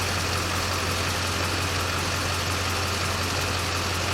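A 2002 Chevy Duramax LB7 diesel idling rough in a shop, a steady low rumble with constant clatter and no talk.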